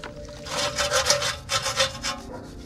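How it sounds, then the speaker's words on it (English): A metal wire brush scrubs dirt off a BMW E92 M3 brake caliper, making quick, close, rhythmic rasping strokes in short bursts, with no voices. "you can get like a metal brush and really just scrub it out"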